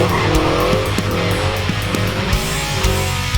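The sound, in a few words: Toyota Supra car skidding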